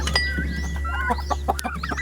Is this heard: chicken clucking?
yes